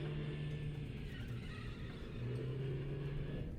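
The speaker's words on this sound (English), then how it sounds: "Gregory drives a car all the way down the Roxy Raceway" A car speeds down the Roxy Raceway in the Five Nights at Freddy's game, a steady loud engine rumble with revving surges running throughout, no talk over it.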